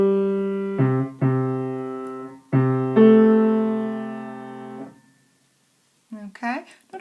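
A piano piece, played as a short phrase of sustained chords with clear separate attacks that ring out and fade, followed by a brief stretch of speech near the end.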